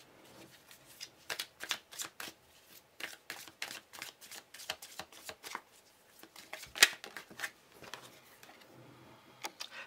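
Tarot cards are shuffled by hand for a card reading, giving a series of quick riffling and slapping bursts in an irregular rhythm, close and fairly soft, with one sharper snap partway through.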